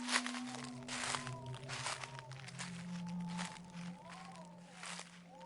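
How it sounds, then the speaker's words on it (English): Footsteps crunch through dry leaves at a steady walking pace as part of an audio story effect, with faint crinkling, soft rustle and some low tonal background running throughout. "they hear footsteps crunching leaves."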